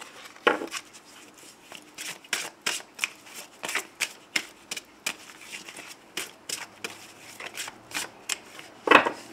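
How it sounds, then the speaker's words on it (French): Petit Lenormand cards being shuffled by hand for a fortune-telling draw, a steady run of crisp riffling and tapping bursts repeating close to the microphone, with no one speaking. "je commence le tirage avec le petit Lenormand"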